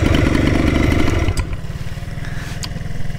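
A minibike's small motorcycle engine running in gear, a loud close throbbing putter that drops slightly in pitch and level partway through, then keeps chugging steadily with no talk.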